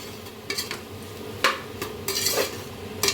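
Oily rice being mixed in a pot with a metal spoon, producing scattered scraping clinks and knocks against the vessel amid a faint sizzle, close and without voices.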